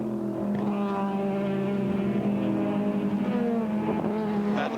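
Sports sedan race cars, including an Alfa Romeo and a Monza, race at Amaroo Park Raceway in 1986, their engines droning and revving at a distance, with pitch shifts as the cars change gear.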